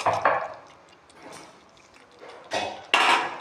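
Paneer cubes dropped into thick simmering masala gravy in a pan, a few soft plops and scraping clatters of a utensil against the pan, close and moderately loud, with quiet gaps between.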